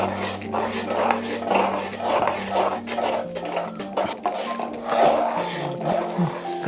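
Tamarind rice being stirred with turmeric powder in a pan for homemade puliyogare, a spoon scraping and clinking against the metal in a steady repeated rhythm, close and fairly loud with a faint background hum.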